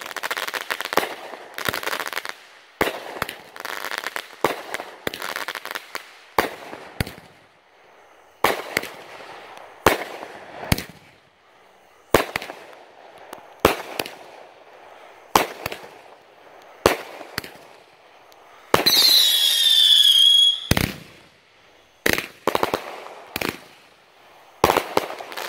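A "50 cal" fireworks cake firing 23 shots outdoors on the Fourth of July: a long series of sharp, loud bangs spaced a second or so apart, with one whistling, crackling burst midway, no talking.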